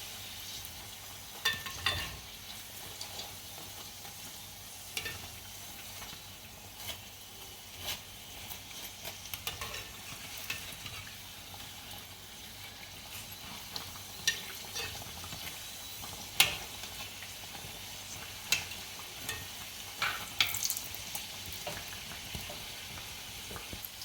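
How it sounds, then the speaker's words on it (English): Aloo pies, potato-filled dough, fry in a pan of hot oil with a faint steady sizzle and scattered small crackles and pops throughout, and no talking. "So this is almost finished frying."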